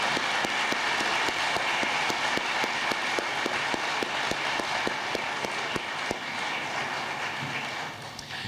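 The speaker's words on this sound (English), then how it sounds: "So let's give Hugh a round of applause" A crowd claps steadily throughout at a college capital campaign launch event, a dense, even wash of applause with sharper individual claps popping out, close and continuous for the whole stretch.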